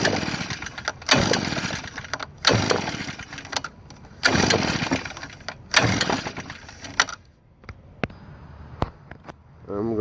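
An Echo leaf blower's small two-stroke engine sputters through several loud bursts with short gaps between them, then fades into lighter clatter and handling noise.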